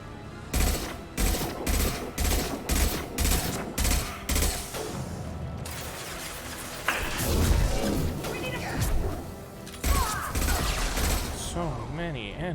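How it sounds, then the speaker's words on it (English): Explosive bursts and rapid gunfire from a mech being destroyed in the combat shooter Mass Effect 2, loud and close, with a string of sharp evenly spaced blasts followed by a denser crashing roar. "Going to explode."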